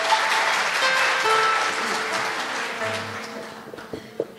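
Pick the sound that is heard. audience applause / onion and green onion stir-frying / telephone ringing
audience applause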